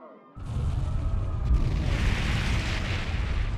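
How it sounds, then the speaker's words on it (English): Cannon fire in the Ys X Nordics video game: after a brief quiet moment, a heavy booming blast erupts and rolls into a sustained, loud rumble with a second thud partway through, dense low-end roar filling the rest. "Sounds like screaming. And cannon fire."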